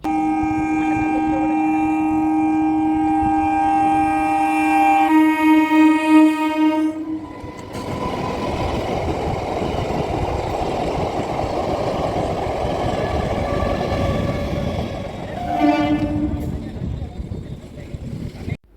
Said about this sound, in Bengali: রেল ক্রসিংটা আছে ওইখানে এসে দাঁড়াতেই দেখলাম একটা ট্রেন আসছে